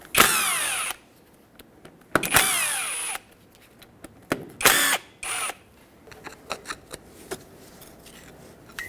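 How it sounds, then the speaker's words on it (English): A power tool with a T27 socket spins off locking hub fasteners on a 2011-2016 Ford F-350, three loud close whirring bursts followed by lighter clicks and clanks of tool handling. "Use a T27 socket to remove all three fasteners."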